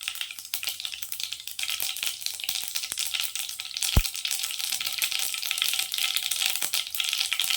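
Mustard seeds sizzle in hot oil in a pan for a curry, a steady close crackling hiss with scattered pops and one sharp tap partway through, no voices.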